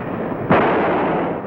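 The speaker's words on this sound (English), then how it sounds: "Joe, throw a warning shot over his head." A single warning gunshot cracks out loud and close, fired over a suspect's head, followed by a sustained echoing boom that slowly decays over a steady background rumble.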